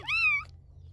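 A single short, high-pitched mew from a young kitten abandoned by a roadside, close and clear, followed by quiet.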